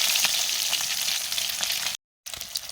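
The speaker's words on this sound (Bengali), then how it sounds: "এই যে ডিমগুলো কিন্তু ভাজা হয়ে গেছে" Eggs sizzle steadily in a hot pan, a close hissing fry with light crackles, briefly cutting out before resuming.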